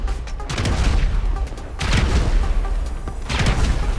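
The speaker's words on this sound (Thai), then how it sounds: "ปาระเบิดรัวๆ ทำไมปาระเบิดรัวๆ ล่ะ" Repeated booming grenade explosions in GTA V, arriving in bursts of two or three with loud rumbling low end and crackling debris between them.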